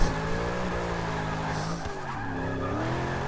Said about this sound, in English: Oh, come on, spin the back tires.